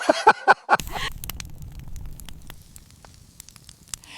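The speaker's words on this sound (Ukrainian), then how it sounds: "Шашлик шкварчить, вогонь горить" After a few sharp clicks at the start, a village fire grilling shashlik burns softly nearby with scattered small crackles and pops over a low rumble.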